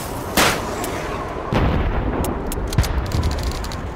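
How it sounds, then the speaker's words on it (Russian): Gunfire at a shooting range in Call of Duty 2: sharp, loud rifle shots with heavy booming reports, one near the start and more following, with short rapid cracks trailing off at the end. "Стреляйте по посуде!"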